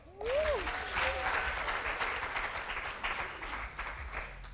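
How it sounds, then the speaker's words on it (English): Audience applause at a Miss Teen Botswana project presentation, a sustained wash of clapping from a crowd that rises quickly and continues evenly with a faint whistle at the start. "I thought I'd hear a round of applause."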